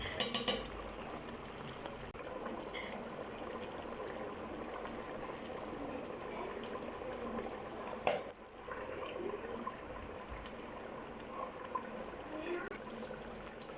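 Water being poured into a pan of lamb karahi while it cooks, a soft continuous splashing and trickling under faint kitchen background, fairly quiet, with one brief sharp clatter partway through.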